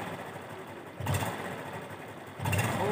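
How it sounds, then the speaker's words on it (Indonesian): A Honda Revo Absolute 110 motorcycle with a clutch rattle idles nearby: a steady, light engine putter that swells louder twice in brief revs. "Biar keluar suaranya, biar keluar mesin aja."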